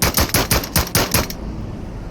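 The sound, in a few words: gunshot in a video game (Into The Radius)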